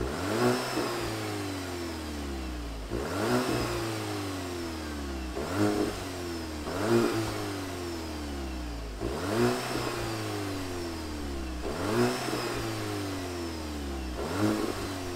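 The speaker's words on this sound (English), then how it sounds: "let's fire up our Volkswagen GTI and hear what it sounds like" 2022 Volkswagen GTI Mark 8 hot hatch engine revving repeatedly from idle, six evenly spaced sharp rises in pitch that fall back to a low idle, close and clear with no talk.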